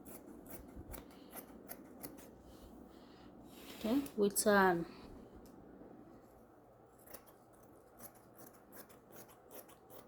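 Scissors cut through fabric for a cape with a brief cluster of sharp snipping and rubbing sounds mid-clip, while a person talks quietly through much of the recording.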